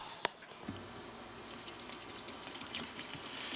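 Water and ethanol draining off gasoline in a steady trickling pour, with a sharp click near the start, moderately close and constant, no one talking.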